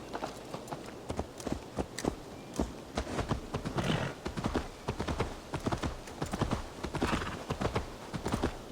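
Horse galloping in the video game Assassin's Creed Valhalla: rapid, rhythmic hoofbeats pounding continuously at close range, with a brief whinny and game ambience underneath.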